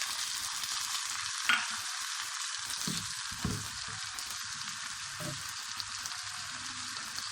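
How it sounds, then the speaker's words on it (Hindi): Tomatoes hit a hot pan for chickpea curry and sizzle loudly and steadily throughout, with a few bursts of stirring and spatter up close. "अब हम टमाटर डालेंगे।"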